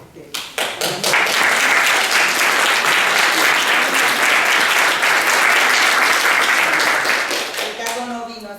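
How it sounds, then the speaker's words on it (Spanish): An audience at a book presentation in Mexico breaks into loud, sustained applause that builds quickly and fades near the end, with a voice coming in as it dies down. "vamos a aplaudir a Magdalena Andrade Briceño"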